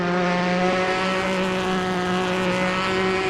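A GT3 race car in a sim racing game at Watkins Glen coasts off the throttle into a corner, giving a steady tonal engine drone with strong harmonic whine that holds at an even level throughout.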